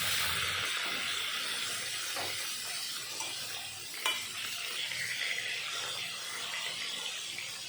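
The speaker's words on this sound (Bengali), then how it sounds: "এখন মেখে রাখা মাছগুলো সব দিয়ে দেব। এই পাশ ওই পাশ করে ভালো মতন ভেজে নেব।" Marinated fish pieces fry in hot oil, giving a loud, steady sizzle and hiss throughout, with a few light stirring knocks.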